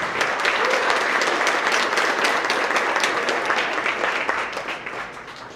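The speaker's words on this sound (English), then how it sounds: "next round of applause for our social studies winners" Students and families at a 6th–8th grade school award assembly applaud the social studies winners, a dense, even clapping that fades slightly toward the end.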